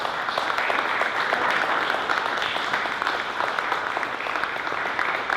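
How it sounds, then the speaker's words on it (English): Applause for the filmmaker Bryce at a festival Q&A, steady moderate clapping from an audience that carries on evenly throughout, heard alone. "So big round of applause for Bryce"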